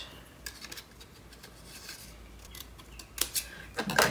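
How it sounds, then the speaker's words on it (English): Scissors fussy-cut paper for a Stamperia Christmas mini album, producing quiet, irregular close snips with a brief flurry of louder cuts near the end. "So I think I'm going to fussy cut that."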